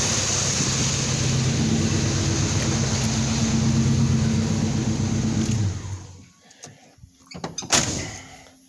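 A 1988 GMC Jimmy engine with its original motor runs as a steady low hum, then cuts off, leaving a quieter stretch broken by a few sharp thumps, like a door being handled.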